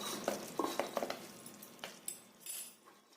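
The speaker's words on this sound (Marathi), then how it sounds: "सगळ्याला कोटिंग होईपर्यंत हे हलवत राहायचं." Fried ladgi dough pieces are stirred into a sweet coating mixture in a pan, giving soft, close scraping and shuffling with a few light clinks of the spoon against the vessel, quiet and without speech.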